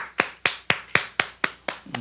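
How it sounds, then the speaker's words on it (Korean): Crisp hand claps ring out close by at a church worship service, about eight of them in a steady, evenly spaced rhythm, with no talking. "우리 하나님께 감사의 박수 돌리겠습니다"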